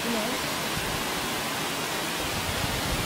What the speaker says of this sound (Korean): 계곡 소리도 좋고